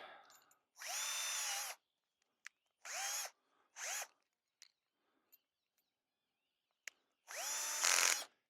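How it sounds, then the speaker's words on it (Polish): An electric drill boring a hole, during a roadside repair on a camper van, whirs in four bursts of a second or so each, with brief pauses and small clicks between them, close and loud. "muszę tą dziurkę przewiercić"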